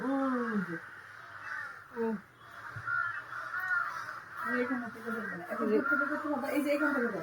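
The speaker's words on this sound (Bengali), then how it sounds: "একটা বাচ্চা কাক গাছ থেকে পড়ে গেছে, সেটার পিছনে উপর থেকে এখন সব কাকেরা" Several crows caw harshly and repeatedly around a baby crow fallen from a tree, loud and close, their agitated calls overlapping in uneven bursts.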